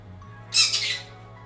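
A pet bird lets out a single loud, shrill squawk lasting about half a second, close to the microphone, against a low steady background hum.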